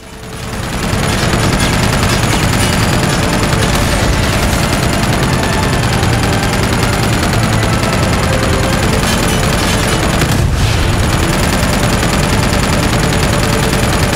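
An attack helicopter in Uncharted 2 pours out loud, continuous gunfire mixed with rocket blasts for the whole stretch, a dense and relentless barrage with only a brief dip near the end.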